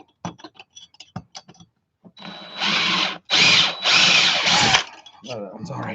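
A power drill bores into Stihl MS660 and Husqvarna 372XP chainsaw cases in several loud bursts of about a second each, with short pauses between them and clicks and handling noise before and after.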